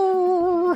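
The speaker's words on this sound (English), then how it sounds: "So this is the sound of you can't equip this." Brief electronic tone from the SNES game Ultima: Savage Empire signalling an item that can't be equipped, a steady pitched synth note held under a second then quickly dropping off, close and clear with no speech.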